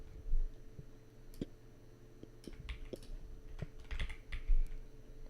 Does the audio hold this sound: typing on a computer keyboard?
yes